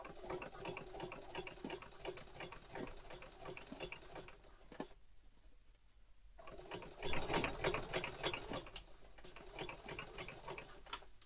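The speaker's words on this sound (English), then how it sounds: "Then let's start sewing." A sewing machine fitted with a ruffler presser foot sewing ruffles, a steady fast mechanical chatter that stops briefly, then resumes at a quicker pace.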